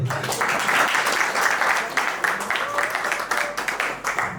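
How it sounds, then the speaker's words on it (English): Guests at a court wedding in Cameroon applaud for the groom, a loud, busy wash of clapping that rises and dips, with voices talking over it. "Applaudissons pour lui."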